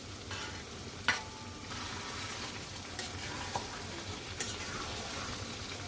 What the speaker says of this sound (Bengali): দিয়ে দিলাম ভেজে রাখা আলু